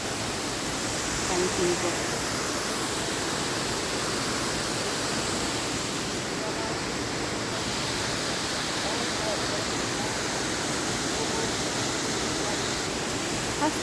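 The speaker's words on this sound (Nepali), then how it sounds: "हेर्नुहोस् त कति राम्रो झरना।" A waterfall pours in a steady, dense roar, close and unbroken throughout, with a voice speaking briefly over the rushing water.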